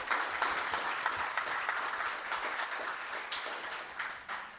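A large audience at a City Club of Cleveland event marking 50 years of IPM breaks into sustained, dense applause that stays loud and even throughout, with no voices rising above the clapping.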